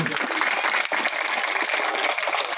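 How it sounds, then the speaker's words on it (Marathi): An audience at a former students' gathering claps together in a dense, steady burst of applause that fills the whole moment without letting up. "मग हिच्यासाठी टाळ्या वाजवा एकदा."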